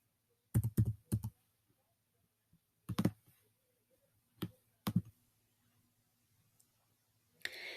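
Several short bursts of clicking and keystrokes on a computer keyboard, grouped in quick clusters with pauses between, close and fairly quiet in an otherwise silent room.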